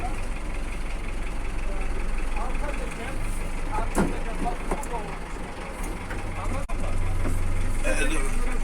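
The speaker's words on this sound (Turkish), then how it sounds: "otobüs park ediyoruz arkadaşlar" A bus engine idles with a low, steady rumble during parking training at a driving course, while people talk over it and a short knock sounds partway through.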